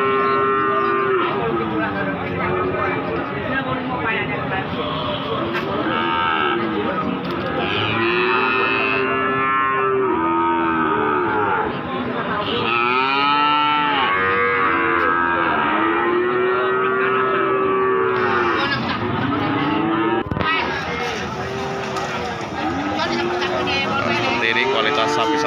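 Cattle and calves at the Pon Jaken cattle market low and moo repeatedly, loud and close, with overlapping calls throughout amid general market bustle and people talking.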